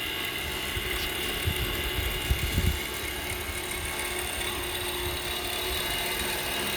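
An SCX6 RC crawler with dual brushless motors runs at about 60% throttle on a 3S battery, a constant loud whirring drone with rumbling low thumps midway and no pause throughout.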